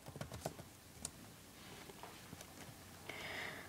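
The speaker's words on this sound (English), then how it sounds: "type in textcraft.net" Quick bursts of typing on a computer keyboard, light close clicks in short irregular runs, alone in a quiet room with a brief faint whine near the end.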